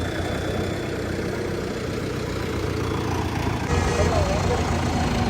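Sonalika RX 60 tractor engine idling, a steady, continuous low rumble that holds even throughout and grows slightly louder toward the end.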